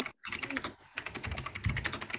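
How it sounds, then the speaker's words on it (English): Rapid typing on a computer keyboard during an online Sunday church service, a steady run of close clicks that fills the clip and breaks off only briefly. "Who is typing?"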